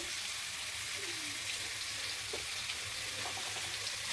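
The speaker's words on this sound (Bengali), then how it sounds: "দেখো এখানে ডাটা কোয়াশ আর আলু ভেজে নিচ্ছি" Drumstick, squash and potatoes fry in a pan with a constant broad sizzle, close and steady, with faint scattered clinks and no talking.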